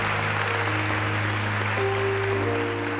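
A church congregation claps steadily as praise for the media ministry, a loud, continuous wash of hand claps filling the room, with a sustained organ-like tone underneath.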